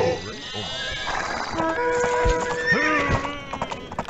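Horses in Age of Empires whinny and neigh in high, wavering calls over hoof clatter and battle noise, with a commentator talking throughout.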